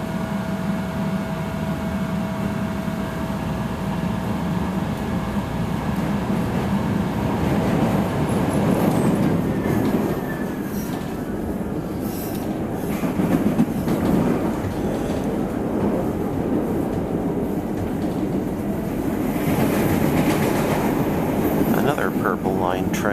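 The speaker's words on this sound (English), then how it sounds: "Another Purple Line train heading back to Howard." A Chicago Purple Line elevated train heading to Howard runs past with a sustained rumbling roar and wheel noise that swells and fades over about twenty seconds, loud and close throughout.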